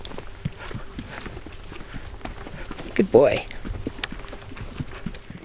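A horse's hooves clop over trail ground during a horseback ride into the hills around Goreme, irregular nearby steps mixed with rustling and a louder thump midway, while a rider speaks briefly to the animal.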